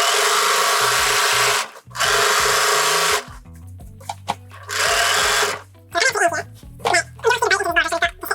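A sewing machine slowly quilts a long stretch of a quilt in loud, steady whirring bursts broken by short pauses, while a person talks in between the runs.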